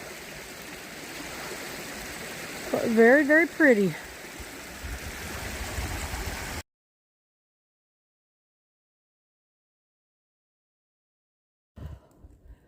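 Swapping Camp Creek, a small rock-hopping creek on the Appalachian Trail, runs with a steady close rush of water while someone briefly speaks over it, then the sound cuts off into silence.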